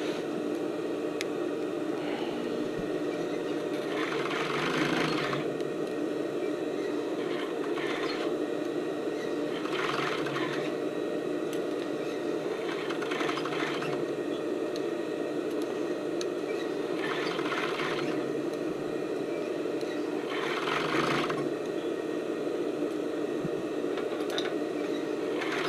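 A sewing machine stitches fold over elastic onto a sports bra, its steady mechanical whir running throughout with brief bursts of faster stitching at intervals, moderately close and alone.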